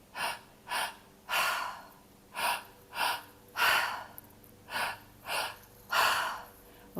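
Slow, deep breaths during a breathwork meditation, about ten rising and falling inhales and exhales in a steady rhythm, close and fairly quiet, with no talking.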